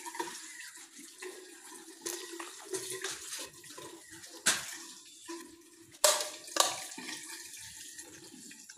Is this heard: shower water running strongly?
yes